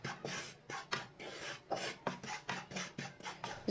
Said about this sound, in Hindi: आटे को थोड़ा सा ब्राउन कर लेंगे, 2-3 मिनट के लिए इसे भून लेंगे